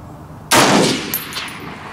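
A single loud rifle shot from an M1A SOCOM with iron sights cracks out at a range, aimed at a steel post 200 yards away, followed by a decaying echo and faint later ringing.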